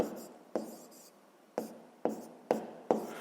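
A pen writes numbers on paper during a sixth-grade math exercise, close up, with a series of short, sharp scratchy strokes and taps at an uneven rhythm.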